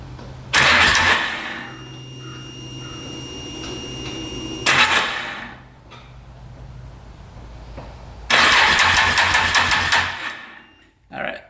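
Freshly rebuilt UTV engine cranking and catching three times in short bursts, each start revving briefly before cutting out, with quieter gaps between attempts.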